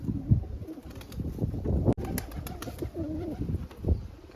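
Newly released Siraji pigeons coo on a sunny rooftop, several throaty rolling calls close by, with a brief wing flutter and a sharp knock partway through.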